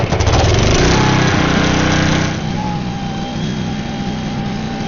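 A Ford truck's engine runs loud and close with a steady rumble, then drops to a lower, smoother idle partway through while hooked to a stage trailer for raising and lowering its landing gear.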